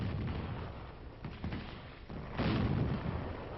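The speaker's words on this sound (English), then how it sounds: "a howitzer lets one go" A howitzer fires a round, a low rumbling boom with a heavier blast building near the end, heard faintly and somewhat distant with no talk.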